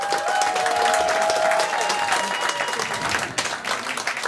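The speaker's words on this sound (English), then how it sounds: "Round of applause, everybody." A comedy show crowd gives a sustained round of applause, dense and lively with some cheering mixed in, while a faint tone wavers in the background.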